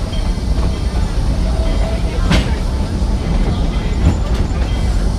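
The Georgetown Loop train in Colorado rolls steadily along the rails with a continuous rumble and occasional wheel squeals and clunks, heard up close from on board.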